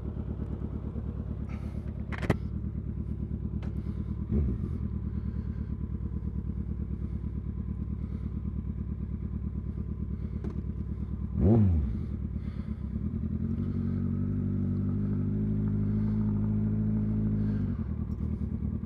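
A 2008 special edition Kawasaki ZX14 motorcycle on a ride, its engine droning steadily close by with brief clunks and a rising rev near the middle before settling into a louder, even hum.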